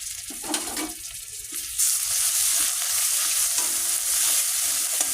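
Spices with salt sautéed in a pan after cumin is tempered in oil, a soft stirring clatter at first, then a loud steady sizzle with spoon scrapes throughout.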